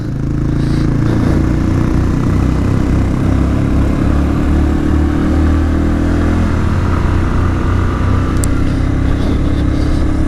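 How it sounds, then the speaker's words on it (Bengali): A motorcycle engine labours loudly and continuously while climbing a steep mountain road in Bandarban, its low, strained drone wavering as the bike nearly stalls, close and alone with no talk. "বাইক থেমে যাওয়ার মতো অবস্থা।"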